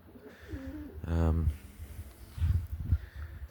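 Racing pigeons coo nearby in soft, low, throaty bursts, one rising warble followed by a few shorter coos, against quiet background noise.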